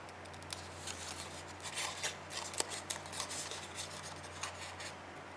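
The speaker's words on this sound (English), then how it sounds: "trim this piece out" Scissors trim a journal page, cutting a strip off the top in a string of quiet, close snips and paper rasps over a low steady hum, with no talking.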